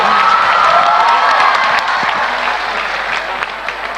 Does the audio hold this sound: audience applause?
yes